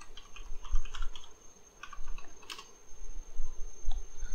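Someone types a new root password on a computer keyboard in CentOS 7 emergency mode: a short run of close, soft key clicks in uneven bursts, with no voices.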